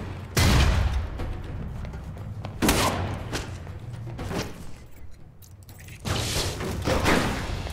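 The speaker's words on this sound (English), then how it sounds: "Okay, I'll use the flashbang." Several heavy booming blasts from a flashbang grenade in the Alpha Protocol video game, each a sharp loud hit followed by a decaying rumble, spaced a couple of seconds apart with quieter gunfire-like noise between.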